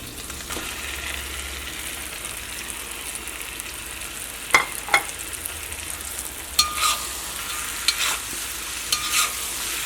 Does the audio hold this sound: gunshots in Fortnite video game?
no